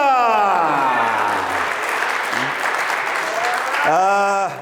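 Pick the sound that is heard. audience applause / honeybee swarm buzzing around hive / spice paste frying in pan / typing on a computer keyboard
audience applause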